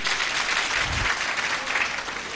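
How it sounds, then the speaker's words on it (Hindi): An audience at a stage program for Garg Rishi Jayanti gives dense, continuous applause that stays loud and even, with one low thump partway through. "इस एकता के लिए ताली बजा करके"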